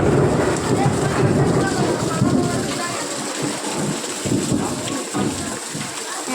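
A sudden heavy downpour after a hot day pours steadily onto outdoor surfaces while thunder rumbles low and heavy beneath the hiss of the rain.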